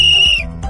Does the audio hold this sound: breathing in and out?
no